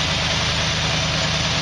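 A Ford LTD station wagon's 302 V8 runs steadily, a loud, close, continuous rumbling idle with a throbbing low-end pulse and no other sounds.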